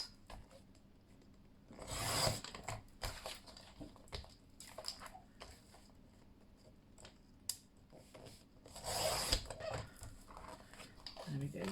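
Paper sheets for an envelope junk journal folio being trimmed and handled, with soft scraping and rustling strokes, two louder longer swishes, and quiet intermittent rubbing between them.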